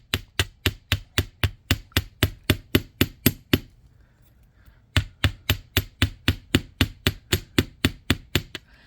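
Steady, rhythmic metallic taps of a chasing hammer texturing a metal pendant, about three per second, close and crisp, pausing briefly midway before resuming at the same pace.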